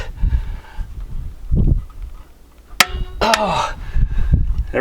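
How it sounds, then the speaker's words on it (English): A torque wrench clicks sharply a couple of times while torquing down the head on a Cummins ISX single-cam diesel engine, amid shop clatter and thuds, with short bursts of people talking. "Yeah, the torque wrench clicked."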